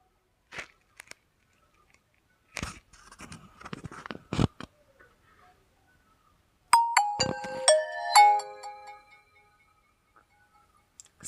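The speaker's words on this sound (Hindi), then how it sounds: "वैसे मैंने आपको स्टार्टिंग टोन इसका सुना दिया है" Nokia mobile phone powering on with its startup tone through the speaker: scattered handling clicks and rustles first, then a short bright melodic chime sequence of ringing tones, fairly close and alone.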